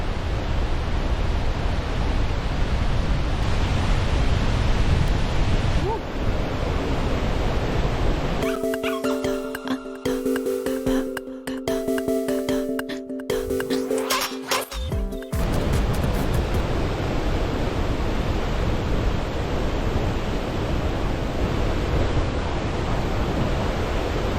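Powerful waterfall on the African Nile River, a steady, loud broadband roar of rushing water that runs throughout, briefly interrupted midway by a burst of clattering handling noise before the roar returns unchanged.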